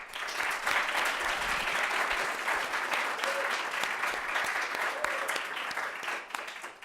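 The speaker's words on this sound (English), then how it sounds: "Please welcome them with a warm round of applause." Warm audience applause welcoming a team about to present their mission concept at a space challenge final presentation, steady dense clapping from a large crowd throughout, no talk over it.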